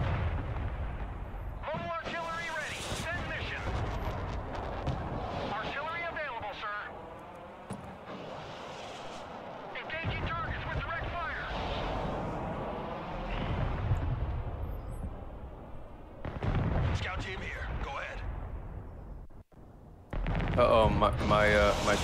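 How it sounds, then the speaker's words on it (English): Missiles and gunfire in the Broken Arrow war game roar continuously: dense artillery booms, explosions and gun bursts fill the mix loudly, with voices talking over the battle. "Something's shooting missiles, man."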